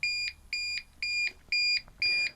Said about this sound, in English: after about 20 seconds, you have the flashing red light and you have the alarm sound.